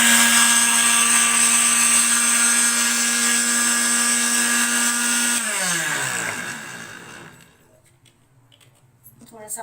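A blender whirring at high speed as it blends loquats with water for sharbat, a loud steady motor drone that winds down and stops partway through, leaving quiet handling noises.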